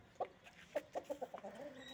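A series of short, close clucks from a rooster, several quick calls in a loose rhythm, with no talking.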